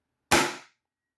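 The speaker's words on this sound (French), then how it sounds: "le blaster a l'air de claquer plutôt fort" A single sharp, loud pop from a Nerf Pro Torrent blaster firing a dart, a snappy burst with a short fading tail, heard alone.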